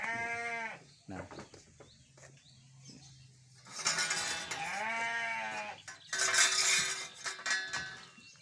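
Garut sheep in a pen bleat loudly and repeatedly at close range, with wavering cries coming in bursts and a clatter of metal in between.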